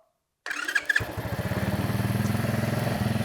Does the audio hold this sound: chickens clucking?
no